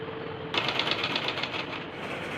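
A sewing machine stitching a suit sleeve at the joint starts up and runs in a rapid, even mechanical chatter, close and steady for about two seconds over a low background hum.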